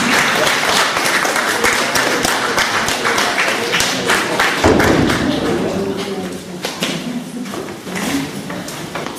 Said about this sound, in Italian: Enzo Boffelli, un applauso